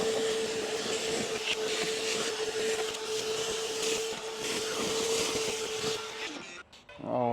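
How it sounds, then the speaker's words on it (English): A shop vac roars steadily and loudly with a constant whine as it vacuums out an air conditioning unit, then cuts off abruptly near the end. "And now we're going to go ahead and vacuum out this unit."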